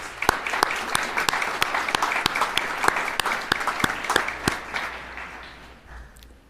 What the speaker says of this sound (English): I think we should give the loved ones a round of applause.